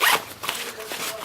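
Zipper on the top lid pocket of a Deuter ACT Trail 32 backpack being pulled, a close raspy zip with a sharp opening burst followed by shorter scratchy strokes, a voice talking alongside.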